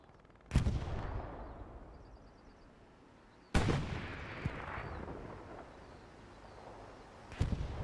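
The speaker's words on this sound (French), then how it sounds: "Attention, il y a l'artillerie qui tombe pas loin." Artillery shells land with three heavy, booming blasts in a World War II strategy game battle at Kharkov, each followed by a long rumbling decay, with smaller pops scattered between.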